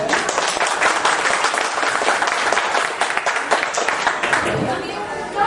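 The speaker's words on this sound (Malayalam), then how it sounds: "അതുകൊണ്ട് നമുക്കൊരു വലിയ കയ്യടി വേണം" A crowd at the Samajam UAE branch's 100th meeting bursts into loud, dense applause, many hands clapping steadily throughout with faint voices mixed in.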